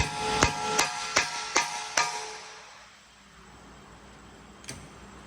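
Five sharp metallic hammer taps on an impact driver loosening a front brake rotor screw on a 2015 Honda Accord, even rhythm, ringing briefly, followed by quiet and one last lighter tap.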